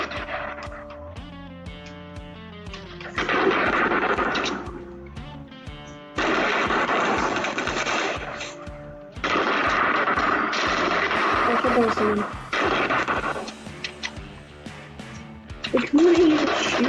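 Gunfire in the Fortnite video game, bursts of shots and explosive bangs mixed with game effects and music, loud and busy, with players talking over the action.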